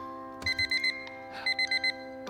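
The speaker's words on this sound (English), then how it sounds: "My alarm! I have to get to work." Alarm in the video game Purrfect Date: two quick bursts of four electronic beeps each, bright and clear, sounding over a soft sustained background tone.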